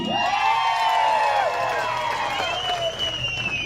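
Crowd at a political rally in Bhigwan, Indapur, clapping and cheering in a steady, dense roar, with whoops and a loud voice carrying over the applause throughout.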